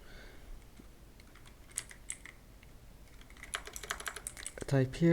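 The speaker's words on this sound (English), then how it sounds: "All you need to do first, just type here" Keys clatter on a computer keyboard in a quick, irregular burst that grows denser and louder toward the end, heard close, with a voice starting at the very end.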